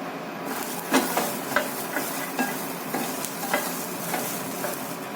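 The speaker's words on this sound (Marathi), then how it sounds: "तर आता वटाण्याला चांगले चटके बसत आहेत तर इथं आपण आता दोन मिरच्या टाकू म्हणजे मिरच्या पण त्याच्यासोबत भाजून घेतील" Green peas roast with green chillies in a pan under a steady, moderate sizzle, while a spoon scrapes and stirs in regular strokes roughly every second, with no talking.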